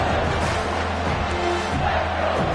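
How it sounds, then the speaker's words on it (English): A football stadium crowd roars in support of the defense during a red-zone stand, a loud, continuous wash of cheering with scattered shouts, heard from within the stands. "The crowd getting behind this defense as they try to get a stop in the red zone."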